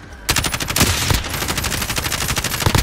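Rapid automatic gunfire in the Call of Duty video game, a loud, continuous burst of closely spaced shots lasting nearly three seconds.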